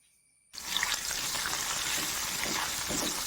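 Chopped garlic and ginger hitting hot sesame oil for a Kerala bone setter (changalamparanda) pickle, a steady close sizzle that bursts in suddenly after a brief quiet start and keeps crackling evenly throughout.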